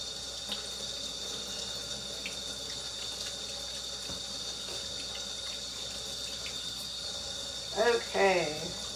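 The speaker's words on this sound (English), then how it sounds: "let me wash my hands" Running kitchen tap rinsing hands, a steady close hiss of water flowing throughout, with brief splashy disturbances near the end as the hands move under the stream.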